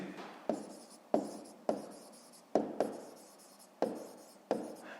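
A pen writes quickly on paper during a fifth-grade maths exercise, close scratchy strokes coming in short repeated bursts with sharp starts, no talking.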